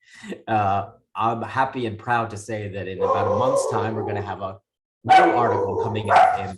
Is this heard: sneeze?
no